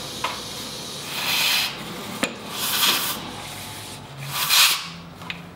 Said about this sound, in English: in my case a bicycle pump, and just blast all of that dust out